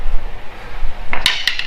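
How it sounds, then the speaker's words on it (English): A hammer strikes the steel frame of an old GMC truck being converted from 2WD to 4WD, giving two or three loud, ringing metallic clanks close together after a moment of low background noise. "I'm going to hit it with a hammer"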